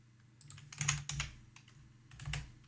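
Fingers type on a computer keyboard in short, uneven bursts of clicky keystrokes, close and fairly quiet, with no talking.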